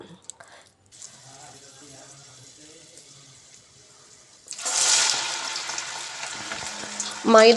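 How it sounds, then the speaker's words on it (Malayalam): Balls of maida flour dough dropped into hot oil, bursting into a loud, steady hiss and bubbling sizzle close by after a few quieter seconds of light kitchen handling. "ഇതുപോലെ ഒന്ന് റൗണ്ട് ചെയ്ത് എണ്ണയിലോട് ഇട്ട് കൊടുക്കാം"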